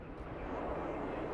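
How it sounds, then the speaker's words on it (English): A Eurofighter Typhoon fighter jet's engine roars as a steady, broad, loud rushing drone that holds without break, with no voices over it. "Dennison will fly a simulation of the Eurofighter Typhoon, one of the most advanced fighter aircraft in the world."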